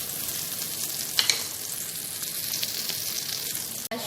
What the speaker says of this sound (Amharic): ትንሽ ብቻ ዘይቱን። ከዛ ሽንኩርት ጨምርበታለሁ።